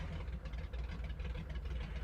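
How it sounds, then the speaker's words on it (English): A Grumman JRF-6B Goose radial engine starting in the MSFS 2020 flight simulator, a steady low rumbling drone with uneven, sputtering pulses, close and continuous throughout. "We have one good engine start."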